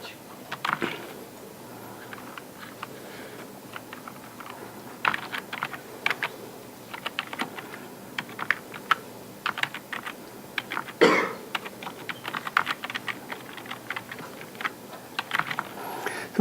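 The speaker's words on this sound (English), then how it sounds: "Let me write the command." Computer keyboard typing a command in a terminal during a file system lecture, with irregular bursts of close, crisp keystrokes and brief pauses, alone with no talk.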